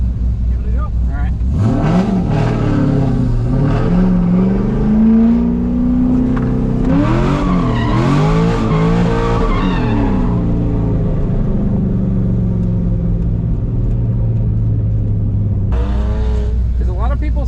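A C5 Corvette drifting at a Fargo, North Dakota drift event, its engine revving loudly in rising and falling sweeps as it slides, then easing off before a final brief burst.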